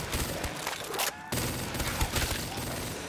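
Rapid bursts of gunfire from a modded weapon in the Call of Duty Zombies map Kino der Toten, dense and loud with a brief gap before the shooting resumes.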